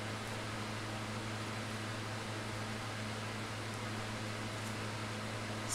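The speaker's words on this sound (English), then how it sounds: "I have to apologize if you can hear my floor fan running in the background." A floor fan runs steadily in a craft room, a constant low hum with broadband airy noise that stays even and fairly quiet throughout, with no talking.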